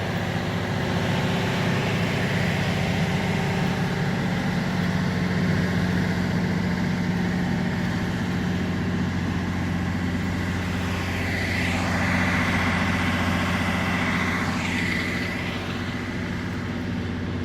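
A loud power generator runs nonstop behind an abandoned Walmart in Milford, DE, its low mechanical drone and hum steady and unbroken for the whole stretch.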